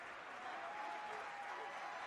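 Basketball fans at a varsity championship game applaud and cheer from their seats, a steady, fairly faint wash of clapping and crowd noise with voices mixed in.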